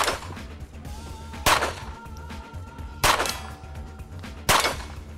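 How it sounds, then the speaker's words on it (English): Pistol shots ringing off steel targets at the 2013 Steel Challenge shooting competition, four sharp loud cracks spaced about a second and a half apart, each followed by a metallic ring, with no talking. "making his shots count on the very difficult outer limits"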